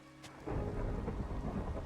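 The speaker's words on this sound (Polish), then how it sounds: "Ale burza. Musimy się szybko schować." A thunderstorm in the game Minecraft, with a faint crack followed by a loud rolling rumble of thunder layered over steady heavy rain, with no voices.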